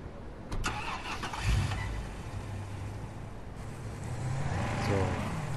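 Police car engine starting in the Police Simulator video game: a cranking starter followed by the engine catching and settling into a steady idle, with someone talking over it.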